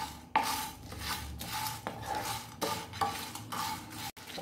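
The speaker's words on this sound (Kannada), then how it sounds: "ನಾನು ಇಲ್ಲಿ ಆರು ಮೆಣಸು ತಗೊಂಡಿದ್ದೇನೆ. ಇದನ್ನು ಡ್ರೈ ರೋಸ್ಟ್ ಮಾಡ್ಕೋಬೇಕು." Red chillies dry-roasted without oil in a pan, a spatula scraping and clinking against the metal in a steady series of strokes, close up, with only a faint sizzle and no voices.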